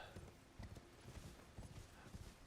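Rhythmic clip-clop of horse hooves galloping in the video game Elden Ring, a steady repeating gallop at moderate volume with faint talk underneath.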